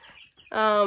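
Cornish Cross meat chickens in a coop let out a loud, close cluck with a strong harmonic tone in the second half, after a stretch of quieter muffled sounds.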